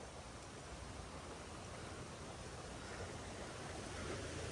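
Steady broadband roar of a waterfall at a lake, a continuous rushing wash of falling water filling the space without pause, close and fairly loud, no voices.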